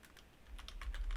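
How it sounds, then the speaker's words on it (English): Quick bursts of keystrokes on a computer keyboard, close and fairly quiet, tapping in an uneven rhythm with a low rumble underneath. "If I can type, typing is nice."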